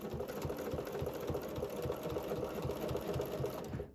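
A domestic sewing machine runs steadily while quilting ruler-guided stitches, a continuous close mechanical hum with a fast, even needle patter, with no talking, until it slows and stops at the very end.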